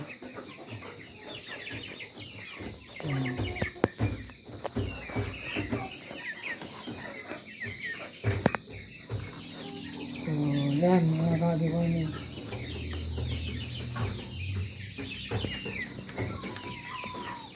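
Pet chickens raised as breeders cluck and call while being fed, the hen clucks and rooster sounds rising in a clear burst midway, mixed with rustling and handling noises, people talking intermittently nearby.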